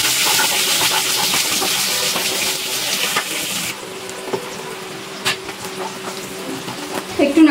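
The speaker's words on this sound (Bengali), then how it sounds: "সব কিছু একটু নাড়াচাড়া করে নিচ্ছি" Cumin seeds and slit green chillies frying in a pan for jeera rice, with a steady sizzle and faint clinks of stirring that ease off midway, leaving quieter crackling and scattered scraping taps.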